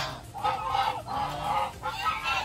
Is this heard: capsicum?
no